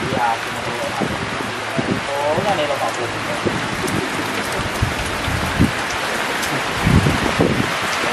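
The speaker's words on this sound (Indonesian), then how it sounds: "Jadi ini hujan, saya belum bisa pulang." Steady rain pours down in a rural village, a loud dense patter on surfaces that continues throughout, while people talk intermittently underneath.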